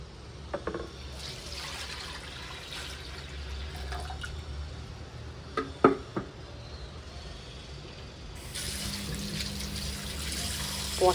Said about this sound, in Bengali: এই জলটা ফেলে নতুন জল একটুখানি দিয়ে দেবো।